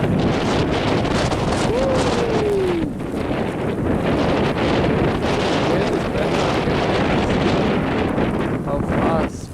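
Strong blizzard wind from a bomb cyclone in Connecticut, blowing at about 30 miles per hour, roars and buffets steadily and loudly against the microphone from start to finish.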